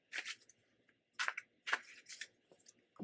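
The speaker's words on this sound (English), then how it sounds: "Just going to shuffle those cards a little bit." A deck of cards is shuffled close by in a quiet room, several short crisp riffling bursts separated by brief pauses.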